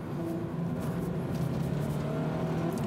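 Subaru BRZ engine pulling hard at high revs on track, a steady, sustained rising drone with tonal bands held under continuous road and wind noise, no speech.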